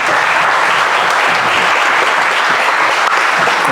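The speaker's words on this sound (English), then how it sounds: "You didn't have to clap for little old me." An audience applauding at a live talk event, dense steady clapping from a crowd filling the room, loud and continuous without pause.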